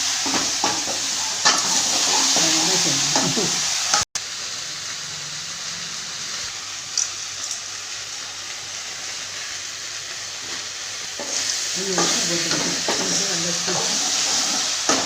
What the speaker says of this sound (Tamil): வெங்காயம் பச்சை மிளகாய் எல்லாமே போட்டு வதக்கி வச்சுக்கிடணும்